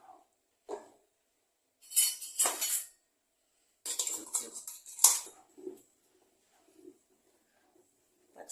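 A spoon scrapes and clinks against a pot while ground green chili is stirred into rice porridge (kanji made from ration raw rice), coming in a few short bursts of metallic scraping with quiet pauses between.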